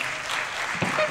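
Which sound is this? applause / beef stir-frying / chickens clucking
applause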